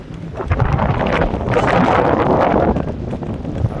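Strong wind buffets a fishing boat at sea among rough waves, a loud continuous roar and rumble close to the microphone with no talk.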